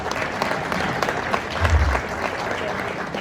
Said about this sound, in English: I think we should put a hands together.